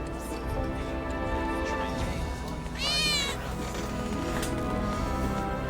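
A single rising-and-falling cat meow, near and clear and lasting under a second, sounds midway through a Final Fantasy 7 Remake scene at Seventh Heaven over a steady, dense game background.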